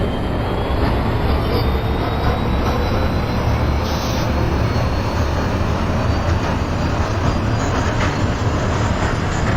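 A New York City subway R142 train in a video game simulation rumbles steadily as it pulls away, a continuous loud roar of wheels on rails with faint high squeals rising over it.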